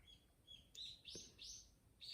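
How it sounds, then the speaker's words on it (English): Birds chirp loudly outdoors in a string of bright, close tweets and short rising calls, repeating every half second or so against quiet background noise. "Birds are like really loud and happy today."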